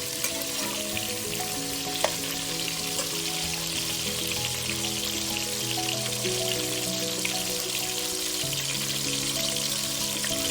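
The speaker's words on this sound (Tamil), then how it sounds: "தக்காளியை போட்டு ஒரு அரை நிமிஷம் வதக்குனீங்கன்னா போதும்" Tomatoes sauté in a pan for a South Indian fish curry, producing a continuous moderate frying hiss with light crackles and an underlying steady hum, lasting throughout with no voices.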